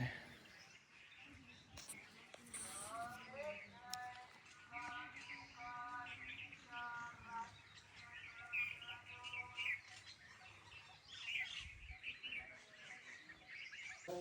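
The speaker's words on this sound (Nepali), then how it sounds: "यस्तो चिसो शीतल आनन्दको चराचुरुङ्गीको साउन्ड सुन्न" Small birds chirp and tweet in a quiet outdoor setting, with harmonic calls repeating through the middle and faint voices in the background.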